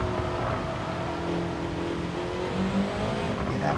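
Touring car engine droning steadily through a corner at Spa Francorchamps in a World Touring Car 900 racing game, with shifting engine tones and no speech.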